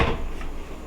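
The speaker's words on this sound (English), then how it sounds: "We're going to flip the door down." Door of a Ninja Foodi digital air fryer oven flipped down, a single short thud-like clack at the start, close and loud, then a quiet tail.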